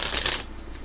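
Tarot cards being shuffled during a reading, a quick papery riffle lasting under a second, close and fairly loud, then settling into a faint hiss.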